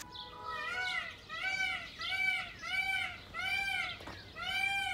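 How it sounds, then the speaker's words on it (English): Peacocks at Kfar Hanokdim in Israel give a string of loud, rising wailing calls, about five in steady succession, each a harmonic cry much like a distressed cat or crying child, clear and close. "Peacocks are so loud, and they kind of sound like a cat dying."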